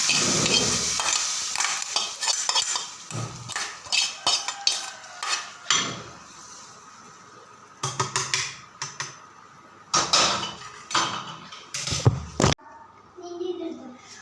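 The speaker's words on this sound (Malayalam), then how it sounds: "ഇനി ഇത് നമുക്ക് കറിയിലേക്ക് താളിക്കാം" Fried onion tempering is poured into a pot of traditional river fish curry. Sizzling, clattering pan and utensil sounds come in repeated bursts, loud and close, with pauses between them and no talk.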